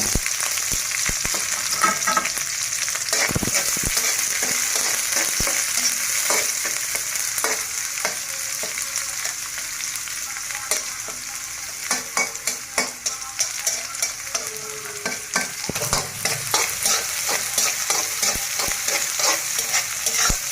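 Onion and green chili fry in hot oil, giving a steady dense sizzle with frequent spatter crackles and occasional stirring knocks. The sound is close and sustained, with no talking.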